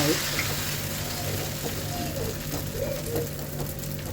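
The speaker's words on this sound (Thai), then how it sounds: "ดี๋ยวรอน้ำมันร้อน แล้วก็จะใส่ไข่ลงไป" Egg frying in hot oil in a wok, a steady close sizzle and crackle with scattered pops running throughout, with no voices over it.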